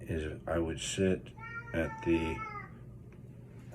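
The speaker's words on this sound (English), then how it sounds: "That's my cat." A domestic cat meows several times in short, tonal cries, close and fairly clear, alternating with a person talking nearby.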